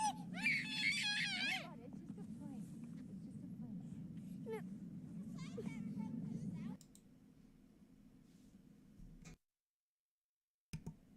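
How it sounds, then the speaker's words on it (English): A child screams in bursts of high, piercing cries as a jet flies overhead in an outdoor setting, with a steady low roar beneath, followed by quieter rumble and a brief silence. "as you can hear the kid or whoever that was screaming"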